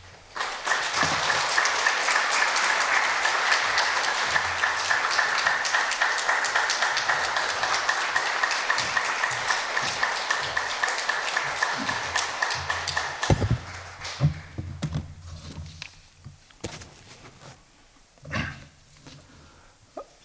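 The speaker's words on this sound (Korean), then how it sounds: "우리 박수로 우리 목사님 모시도록 하겠습니다." A church congregation gathered for a Holy Week revival service claps loudly and steadily to welcome the pastor; the dense applause fills the room for about thirteen seconds, then breaks off into scattered claps, shuffling and a few faint voices.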